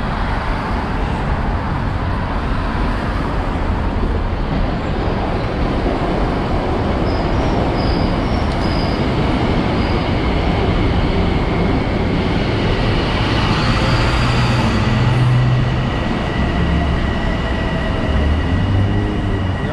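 A local subway train near Atlantic Avenue Terminal rumbles past steadily and loudly for the whole stretch, with dense rail noise, faint wheel squeal and a swell toward the end, no talk over it.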